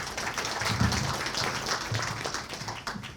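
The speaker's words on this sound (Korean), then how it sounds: "큰 박수로 환영해 주시기 바랍니다" Audience applause rises in a conference hall as a Korea Expressway Corporation senior researcher is welcomed to present; steady broadband clapping fills the whole stretch at moderate level, with faint murmuring underneath.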